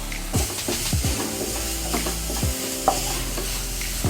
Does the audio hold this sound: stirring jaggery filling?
yes